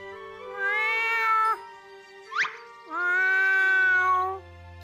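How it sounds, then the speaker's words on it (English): A cat meows twice in long, drawn-out cries, with a short chirpy mew in between, close and clear against a quiet background. "Your meows sound very sad"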